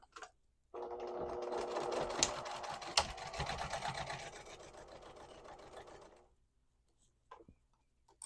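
Sewing machine stitching witch hat fabric in one steady burst of about five seconds, a close, even mechanical whir with a brief slowdown near the end before stopping, then quiet handling.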